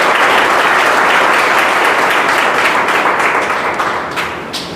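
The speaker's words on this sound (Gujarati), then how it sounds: "આજે આપણી સંસ્થા પર નિર્મળાબેન કપૂર સૌ પહેલીવાર પધાર્યા છે, ત્યારે આપણે સૌ તેમનું તાળીઓથી સ્વાગત કરીએ।" Loud, sustained applause from an audience welcoming a guest to an organization's event, dense clapping filling the whole stretch and tapering slightly at the end.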